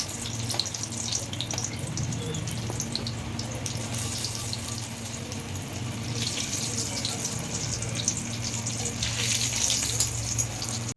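Stuffed potato mirchi pakoras frying in hot oil, a continuous bubbling sizzle with a constant low hum, steady and fairly close throughout.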